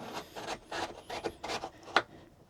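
A wooden drawer board for a first-generation Toyota Sequoia drawer system slides over into place, making a series of short, close scraping rubs with a sharper knock near the end.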